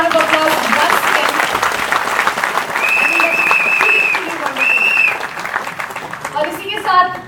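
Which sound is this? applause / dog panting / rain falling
applause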